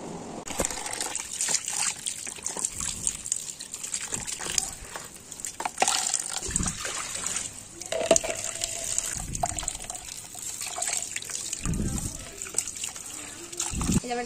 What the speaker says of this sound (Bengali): এই কালারটার সাথে আর একটু জল মিশিয়ে সেটাকে পাতলা করে